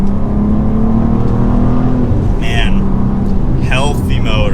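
A 2023 sports car engine revving while driving, a steady droning engine note rising and falling in pitch, loud and close, with people talking over it and brief higher whines toward the end.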